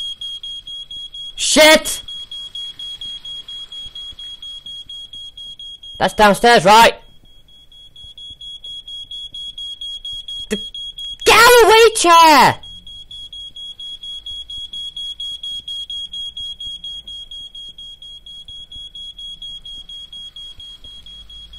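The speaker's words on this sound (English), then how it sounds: "That's my smoke detector." A home smoke detector sounds a steady high electronic tone throughout, while people exclaim loudly in short bursts over it.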